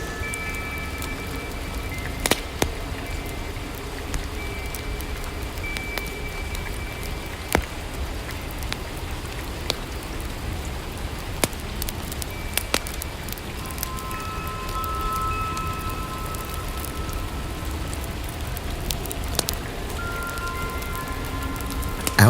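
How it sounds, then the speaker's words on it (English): Soft, steady rain falls outside a small stone cottage at night, a continuous even patter with scattered louder drips throughout. "the soft, persistent rain has been falling since mid-afternoon. It is not a violent storm, but a steady, soporific drumming"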